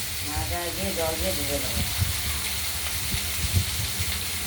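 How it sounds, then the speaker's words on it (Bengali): Stalks of Katwa data stirred in hot oil, a soft continuous sizzle with scraping stirs, partly under a speaking voice early on. "এদিকে ডাঁটাগুলো একটু তেলে আমরা নাড়াচাড়া দিয়ে নিচ্ছি"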